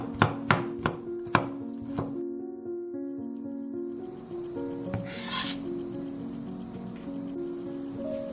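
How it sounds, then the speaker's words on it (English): A knife chops five garlic cloves on a cutting board: a few sharp, spaced knocks open, then a pause, then softer scraping and rubbing over a faint tonal background hum. "I'm going to chop 5 cloves of garlic next"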